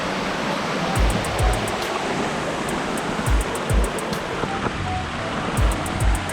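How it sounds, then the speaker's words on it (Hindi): Water from two waterfalls at a hidden spot in Kharghar, Navi Mumbai, pours in a dense, constant rushing roar, with a few low thumps from nearby handling breaking through the steady wash. "उन 2 वाटरफॉल्स का पानी यहाँ पे आ जाता है"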